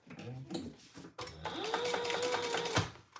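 A sewing machine top-stitches a trifold wallet: a few soft clicks and handling noises, then a brief, even whirring run of stitching that stops abruptly, close by and fairly quiet.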